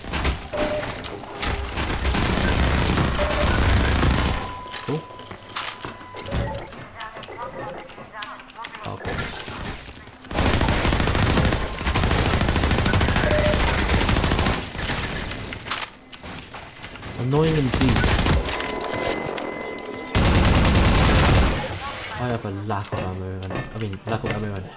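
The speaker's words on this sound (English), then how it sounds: "Let's just use MP5 for now." MP5 submachine gun fire in Half-Life 2 with the MMod mod comes in loud, dense bursts of rapid shots, separated by short pauses, while a player talks over the action.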